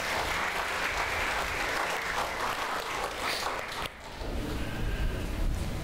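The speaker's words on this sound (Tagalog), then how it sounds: "The best uling palakpak para kay Jesus." A church congregation claps steadily for about four seconds during a sermon, dense and even, then the applause cuts off and a low, quieter background takes over.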